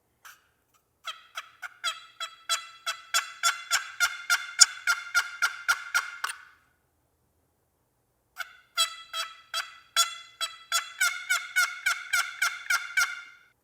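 A homemade wooden turkey box call is scraped in two bursts of rapid, raspy yelping clucks, each run speeding up over several seconds with a pause between, played close and loud with no talking.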